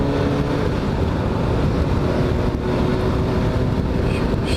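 Suzuki GSX-S750 motorcycle on the move, a continuous loud engine roar with heavy wind rush over the microphone, steady throughout and with no talk.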